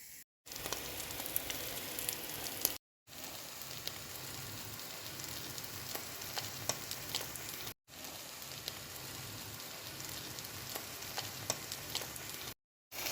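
Continuous crackling sizzle of onions frying in a pan, dense popping and hissing, interrupted by a few short silent gaps.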